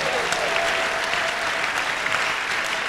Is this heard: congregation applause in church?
yes